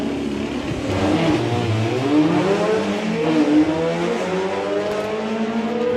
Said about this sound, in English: It's going to be a great side-by-side air-cooled drag race coming up at Big Bang.